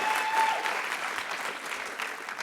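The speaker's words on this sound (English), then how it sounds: "Aren't you going to cheer for that?" At a school graduation ceremony the audience applauds and cheers, a dense, steady clapping from a large crowd that thins only slightly over a few seconds.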